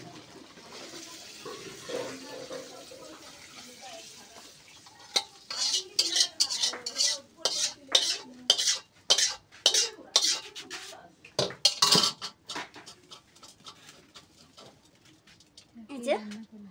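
Silver carp and pointed gourd kosha curry poured and scraped out of a cooking pan: a quiet start, then a dense run of metallic clatters and spoon scrapes. A voice talks near the end.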